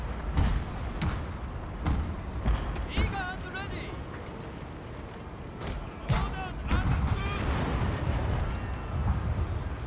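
Ships fire their guns in a naval battle in Total War: Shogun 2, Fall of the Samurai, with repeated booming cannon shots and explosions over a busy battle din while a voice talks over them.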